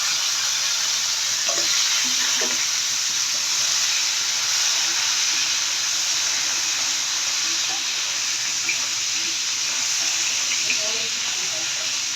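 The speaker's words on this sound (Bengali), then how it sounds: "এখন আমি আলুগুলো ভেজে নেব" A steady, loud sizzle of potatoes frying in a hot pan, with soft occasional scraping from stirring.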